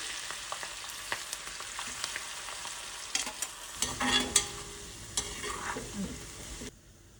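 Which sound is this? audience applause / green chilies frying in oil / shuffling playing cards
green chilies frying in oil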